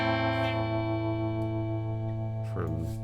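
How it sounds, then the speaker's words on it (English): A steady, buzzy sustained tone drenched in a reverb plugin's fairly standard reverb, holding at an even loudness, with a brief shift in character near the end. "This next section is a little bit more standard reverb."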